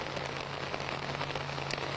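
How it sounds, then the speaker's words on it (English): Steady rain coming down outdoors during a live news report at a police scene, a dense continuous hiss of drops on surfaces with a low steady hum underneath and no voices. "A lot of rain coming down too."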